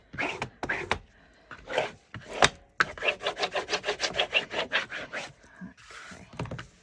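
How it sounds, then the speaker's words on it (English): A burnisher rubbed quickly over a leather edge or surface in stitchery work, giving a run of close, evenly spaced rasping strokes, near and fairly loud, with a few scattered handling sounds before it. "Let's give it a quick burnish."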